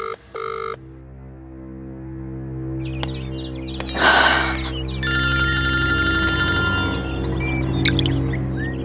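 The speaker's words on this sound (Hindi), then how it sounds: "ये फोन क्यों नहीं उठा रही है?" A phone ringtone plays in repeated melodic bursts over a low steady hum, with a brief rustling burst in the middle; no one answers.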